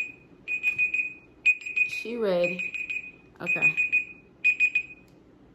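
A timer alarm beeps in quick repeated bursts, loud and close, with short gaps between the groups of beeps, while someone talks over part of it.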